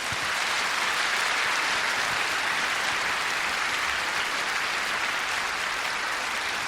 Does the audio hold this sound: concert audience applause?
yes